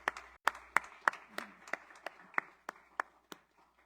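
In a church service, a small congregation claps in slow, steady unison as worship applause, about a dozen crisp evenly spaced claps, fairly quiet and ringing slightly in the room.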